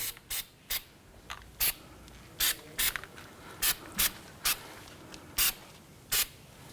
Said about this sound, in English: I'm going to apply some anti-seize spray.